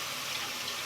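Hot water runs steadily from a tap during hair washing, a continuous close hiss and splash with no breaks.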